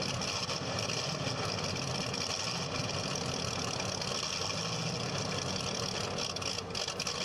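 A Ford flathead 8-cylinder, 304 cubic inch engine in a belly tank lakester race car idles at a dry lake race, a continuous rough loud rumble with no breaks.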